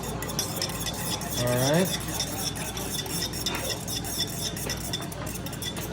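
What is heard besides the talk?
mixing meatloaf ingredients together in a bowl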